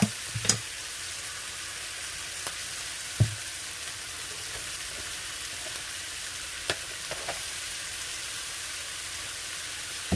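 Vegetables fry in oil in a skillet with a constant crackling hiss throughout, and a few sharp clicks from the spatula or pan stand out along the way.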